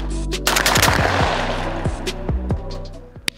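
Several sharp, loud shotgun blasts from a Beretta A400 Xcel or SKB RS300 ring out close by in quick succession, each with a short echoing tail.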